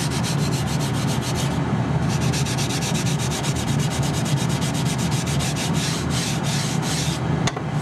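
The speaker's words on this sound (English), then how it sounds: "using a sanding block, I can get the last little bit off" Hand sanding with a sanding block on the boat Windy 739, a steady rhythmic scratchy rubbing of back-and-forth strokes, close and continuous with a brief pause.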